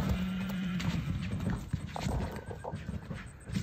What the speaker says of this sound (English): You're spooking the other horses.